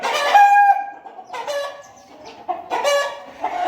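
A paper white heera aseel rooster clucks and calls loudly and close by in several drawn-out, harmonic bursts with short gaps between them.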